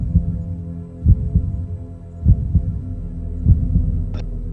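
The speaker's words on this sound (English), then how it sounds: "the faint pounding of his own heartbeat echoing in his" A slow, deep heartbeat thumps in steady double beats, low and muffled, with a faint hum underneath.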